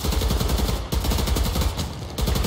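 Rapid bursts of gunfire in the Survarium shooter game, loud, close and rhythmic, with two brief pauses between strings of shots.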